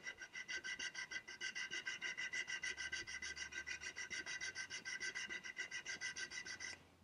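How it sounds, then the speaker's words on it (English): Hand sanding of an oak back slat with sandpaper wrapped around it: a steady, close, rhythmic back-and-forth rasp, about five strokes per second, continuing evenly for several seconds. "And I just grabbed some sandpaper, put it around, and just take it and"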